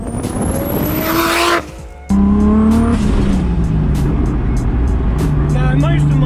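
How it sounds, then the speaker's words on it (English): Datsun 260Z with a 520 WHP RB25 engine driving hard, a loud close engine roar with rising revs, a brief dip during a gear change, then sharp popping and whining as it pulls again, with a voice talking over it. "The car is noisy."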